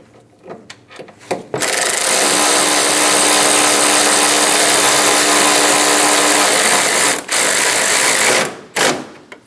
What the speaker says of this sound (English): Install the 2 10mm bolts on the top of the grill.